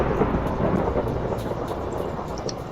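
Thunder rumbles steadily with a dense hiss of rain throughout, loud and continuous, with no voices.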